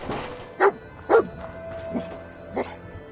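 Dog barking in Fallout 4, the companion Dogmeat giving a few short separate barks and yips at close range over a quiet game background.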